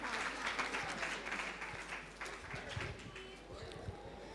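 Audience applause for a child reciter at a kids' naat competition, a broad wash of crowd clapping heard somewhat distant and continuous, with low rumbling noise underneath.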